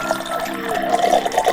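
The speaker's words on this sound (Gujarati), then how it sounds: "પાણી નાખી, પાણી પેલા આપણે ગરમ કરી લઈએ." Water pours into a pot on a stove, a short steady gurgling splash filling the vessel for Maggi noodles, close and fairly loud with no talking.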